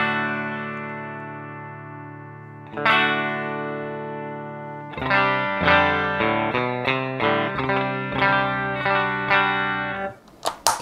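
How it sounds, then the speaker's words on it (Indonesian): Clean electric guitar played through reverb and analog delay pedals, a sustained chord ringing out, then a second strum, then a run of plucked notes and chords with long shimmering tails, fairly loud and alone. "Jadi ini clean sound-nya."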